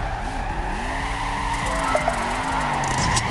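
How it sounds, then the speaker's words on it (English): Car tires squealing through a handbrake turn in Torque Burnout, a wavering pitched screech over a continuous engine roar, building slightly toward the end. "I did a handbrake turn"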